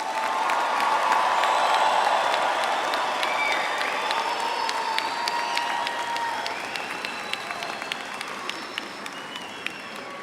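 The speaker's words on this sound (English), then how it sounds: "Let's give our graduates one final round of applause." A large university commencement audience gives a long, steady round of applause for fall graduates at the University of Houston–Victoria, with crowd noise underneath as the clapping gradually thins.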